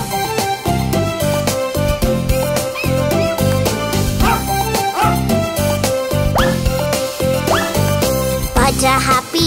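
A cartoon dog barking and yipping in short bursts over a loud, bouncy children's nursery-rhyme music track.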